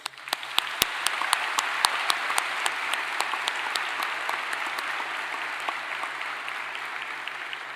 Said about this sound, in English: Please, a round of applause to the judges.